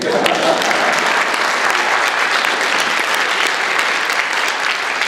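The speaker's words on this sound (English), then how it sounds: "You can clap, go ahead." An audience at a speaking event claps loudly and continuously, a dense wash of applause filling the room for about five seconds.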